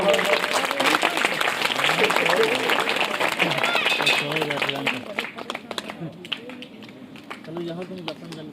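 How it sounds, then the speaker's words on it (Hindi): An audience at a Bhagavat Katha religious gathering in a village claps for several seconds, a dense crackle that thins out near the end, while a speaker talks over it. "अरे भाई तालियां जो बंद कर देते हो।"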